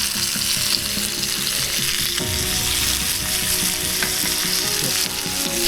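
Fish pieces frying in a pan during night-time solo cooking, a steady, close, dense sizzle that runs continuously with no talk.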